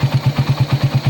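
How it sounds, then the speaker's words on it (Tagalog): A Raider 150 motorcycle engine, bored to 180cc with a 30mm flat-slide carburetor, idles close up in an even, rapid thumping rhythm of about nine beats per second. "Ito yung tunog ng makina niya ngayon."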